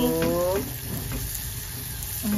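Garlic and shallots sauté in butter in a home kitchen, giving a steady close sizzle throughout, with a voice speaking briefly at the start and again at the end.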